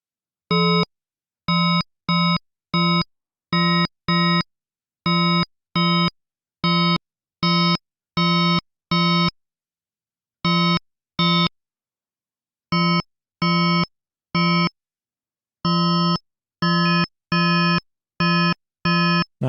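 Glassy synth one-shots built in Serum 2: a steady run of short, bright, bell-like tones struck one after another in quick rhythmic bursts, each cut off cleanly, with short silent gaps between groups.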